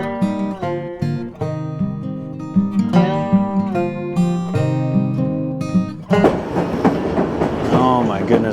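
A White Pass Scenic Railway train in Alaska rumbles along the tracks with loud tonal squeals and rhythmic clatter, turning into a rougher, noisier roll near the end.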